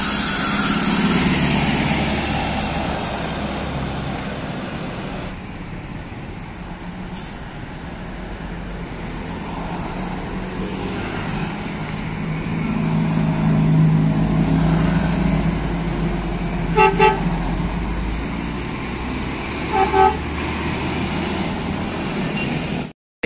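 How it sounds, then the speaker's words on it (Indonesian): A City Miles SR2D Prime tour bus engine rumbles past at moderate distance amid steady traffic noise in Ciamis, the sound rising and fading, with a couple of brief clanks near the end. "Melintas bus City Miles SR2D Prime"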